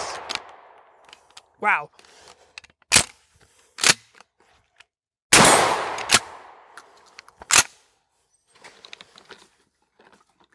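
Mossberg 500 shotgun fired at steel targets outdoors: several sharp, loud separate blasts spaced a second or so apart, each with a quick ringing tail, plus light handling clatter and a brief spoken exclamation.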